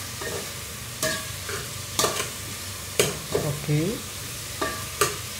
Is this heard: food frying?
yes